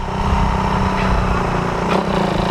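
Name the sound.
Suzuki Raider 150 motorcycle engine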